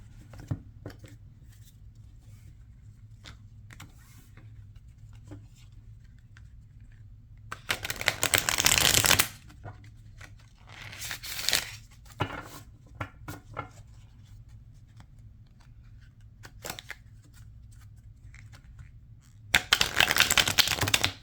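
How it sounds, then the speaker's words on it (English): A Monstarot tarot deck being riffle shuffled up close, with two loud crackling bursts of cards ruffling together a few seconds each, separated by quieter tapping and handling of the cards. "So let's do a riffle shuffle first."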